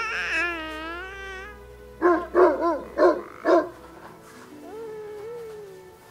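A Great Dane puppy lets out a high drawn-out whine, then four quick, close barks in a row, followed by another softer whimper.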